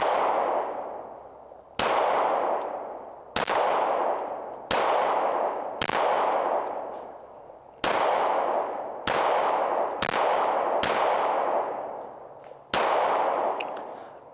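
HK CC9 micro-compact 9mm pistol firing S&B ammunition, nine sharp loud shots spaced irregularly about one to two seconds apart, each with a long ringing outdoor decay.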